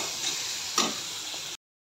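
Ginger and garlic fry in a pan for a pork dish, a soft close sizzle with a brief stir scrape in the middle, cutting off abruptly after about a second and a half.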